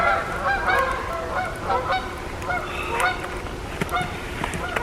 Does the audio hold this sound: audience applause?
no